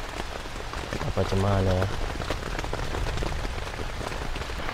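Heavy rain drums steadily on a tent at a campsite, making a dense, continuous patter, while a voice speaks briefly under it.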